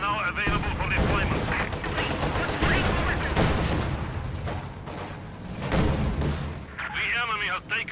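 Heavy machine gun fire and other gunfire from an enemy position in a war video game, dense rattling bursts with deep booms throughout and a voice talking over the firing.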